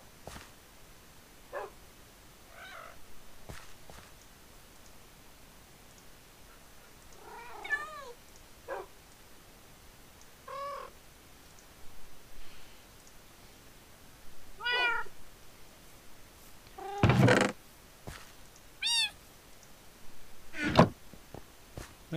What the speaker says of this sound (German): Wo ist denn das kleine Kätzchen jetzt hin?